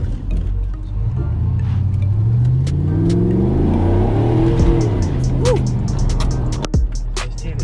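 A C6 Corvette engine revs hard and loud up close while the car hops its wheels, with rising and falling engine tones and a few knocks and thumps toward the end.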